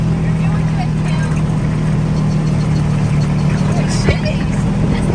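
An ATV engine runs steadily through a desert ride on dunes near Dubai, a loud continuous motor drone with a strong low hum, riders talking over it and the throttle in need of a tune-up.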